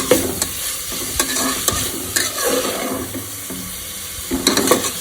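Soaked green peas stir-frying in a pan, a steady sizzle broken by repeated scraping strokes of a spoon, close and fairly loud with no talking.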